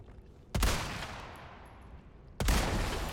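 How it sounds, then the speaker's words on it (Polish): Two gunshots ring out in the Resident Evil 4 remake video game, sharp loud cracks about two seconds apart, each trailing off in a long echoing decay. "Dwa strzały."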